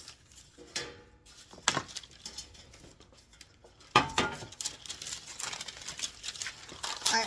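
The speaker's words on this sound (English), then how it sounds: "I'm going to go ahead and line my cookie sheet with parchment" Parchment paper is unrolled and pressed onto a cookie sheet in a kitchen, giving a series of close, crisp crinkles and rustles with a few light taps of the pan in between.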